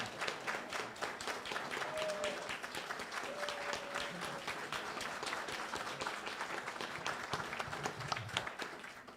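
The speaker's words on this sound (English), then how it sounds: "Let's give them a round of applause." A church congregation gives the Advent decorators a round of applause, many hands clapping in a steady, crowded patter that holds for several seconds, fairly soft and distant, with a few faint voices underneath.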